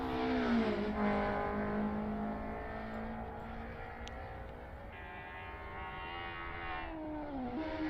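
A vintage touring race car laps the Nordschleife, its engine whining loud and steady through rising and falling revs as it shifts gears along the circuit, with no voices.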